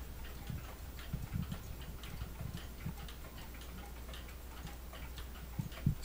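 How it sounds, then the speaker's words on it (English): A freshly repaired wall clock movement ticks steadily and close by, its even tick-tock beats running throughout over a low background hum. "This clock has a really nice sound to it."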